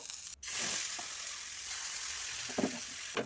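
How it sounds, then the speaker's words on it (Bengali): Pieces of a rice and chana dal snack fry in a little oil with a continuous close hiss, marked by a few soft stirring clunks, quiet and steady with no talking. "পরপর সব একটা একটা করে ভেজে নেব"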